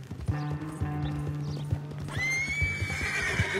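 A Belgian draft horse's hooves clip-clop steadily at a slow walk in Red Dead Redemption 2, then it lets out a loud, drawn-out neigh near the end.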